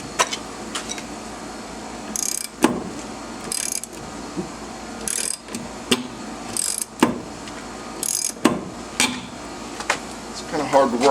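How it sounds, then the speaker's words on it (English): Hand tool tightening parts during a boat's gimbal housing and bellows rebuild, a series of close metallic clicks, clanks and ratcheting knocks at irregular intervals, with faint voices in the background. "that's tightening it, Jay."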